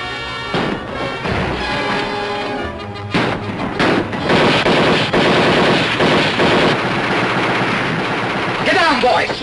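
A 1941 Hopalong Cassidy Western shootout brings loud, rapid gunfire, with shots cracking in dense bursts and overlapping reports through the whole stretch, some sharp ricochet-like whines near the end.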